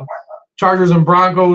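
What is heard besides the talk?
dogs barking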